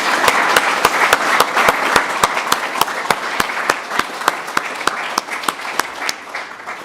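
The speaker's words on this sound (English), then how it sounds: "could you please join me in giving our panellists in particular and our speakers a very warm round of applause" Audience members at an innovation report launch applaud panellists and speakers with a warm, full round of clapping, sharp individual claps standing out over the crowd's wash before it thins toward the end.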